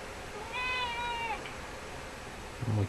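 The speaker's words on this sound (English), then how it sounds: "My cat's just come to say hello." A cat meows once, a drawn-out, clear call heard from nearby over a steady background hiss, with a short soft thump near the end.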